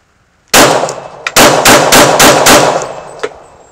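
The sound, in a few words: firearm magazine dump, rapid gunfire with Olight Valkyrie 2 mounted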